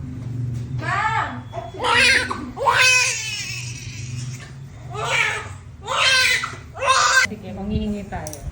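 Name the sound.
woman screaming during childbirth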